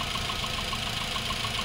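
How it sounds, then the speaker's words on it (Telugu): A Chevrolet Sail car engine idling quietly: a steady, even mechanical hum with a soft low rumble, heard close up and alone with no voices. "ఇంజన్ బీడింగ్ అయితే చాలా సైలెంట్గా ఉంది మనకు"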